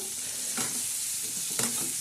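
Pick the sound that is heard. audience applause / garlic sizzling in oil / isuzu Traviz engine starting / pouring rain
garlic sizzling in oil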